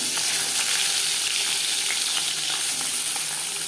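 Whole singhi fish fry lightly in hot mustard oil, giving a loud, dense, unbroken sizzle close up, with no talk.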